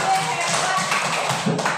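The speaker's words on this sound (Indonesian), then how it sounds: "Tepuk tangan untuk kita." Children clap their hands together in a classroom, a quick run of light, uneven claps over a couple of seconds, mixed with voices talking.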